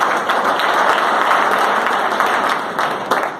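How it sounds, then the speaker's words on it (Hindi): Loud, dense applause from an audience at a business meeting, a steady wash of many hands clapping close by for a few seconds with no talk over it. "इनके लिए एक बार जोरदार तालियां बजाएं"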